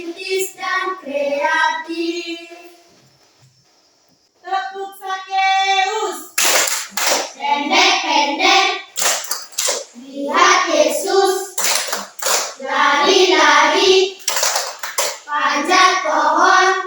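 A classroom of children at a Catholic school in Merauke performs the Tepuk Sakeus clap routine, with loud sharp claps in patterned bursts mixed with chanted voices and a brief pause partway through.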